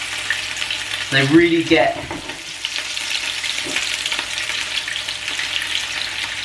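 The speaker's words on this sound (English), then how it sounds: "Tilt that oil into those meatballs." Meatballs frying in oil in a pan make a steady close sizzle throughout, while a person speaks briefly early on over the frying.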